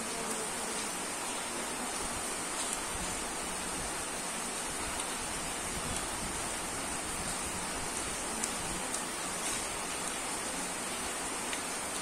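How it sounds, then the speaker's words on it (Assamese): Heavy rain pours down in a steady, dense hiss of pattering drops, continuous and fairly close with no voices. "ইমান বৰষুণৰ চেৰচেৰীয়া শব্দ"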